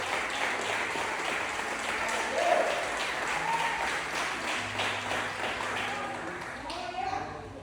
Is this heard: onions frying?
no